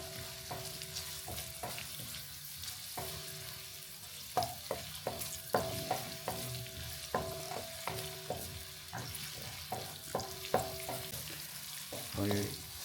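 Onion frying in a home kitchen pan for white sauce macaroni, with no butter or oil mentioned, steady sizzle broken by repeated stirring scrapes and clinks, fairly quiet and close, with no talking.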